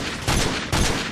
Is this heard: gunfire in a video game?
yes